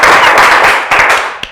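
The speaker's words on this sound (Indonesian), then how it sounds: "Tepuk tangan dulu dong." Audience applause at a campus podcast recording, a dense burst of clapping that holds steady, thins briefly near the end and ends with a single sharp clap.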